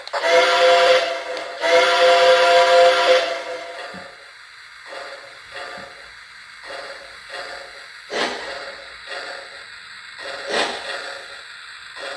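A steam whistle blows in two long, loud blasts, followed by softer rhythmic chuffing and hissing as the train moves along.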